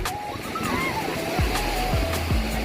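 Sea surf at Lingayen Beach, Pangasinan rolls as a steady wash of breaking waves, close and moderately loud, with faint voices and a low engine hum mixed in.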